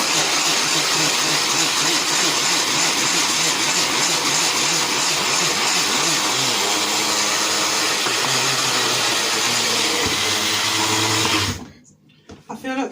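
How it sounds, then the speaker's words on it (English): A loud kitchen blender grinds bread slices into fishing ground bait with a pulsing, churning motor whine that shifts pitch as the contents break down, then cuts off abruptly near the end. "Put what you can of the safety guard back on your blender,"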